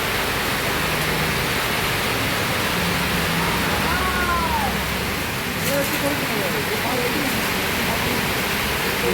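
Steady rain falls during the monsoon season, heard from under a roofed shelter beside a rough road as a dense, even hiss throughout, with a faint voice briefly audible.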